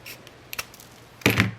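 Scissors cut through thick material on a small paper treat box, giving a couple of faint clicks and then one louder, crisp snip near the end, no voices.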